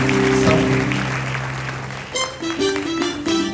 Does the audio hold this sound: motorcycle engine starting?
no